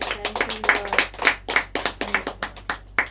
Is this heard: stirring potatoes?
no